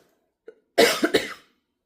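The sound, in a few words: coughing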